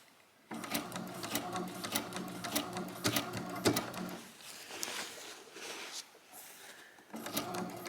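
A sewing machine stitching fabric up close, rapid mechanical clattering in bursts with brief pauses between runs and a short restart at the end.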